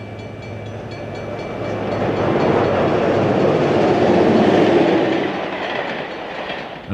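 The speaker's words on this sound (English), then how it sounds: "The Wabash Bluebird heads west for St. Louis at Central Avenue in Oak Park in 1960." The Wabash Bluebird passenger train heading west for St. Louis at Central Avenue in Oak Park in 1960 makes a loud, steady rolling rumble that swells as it passes close by, with no voices.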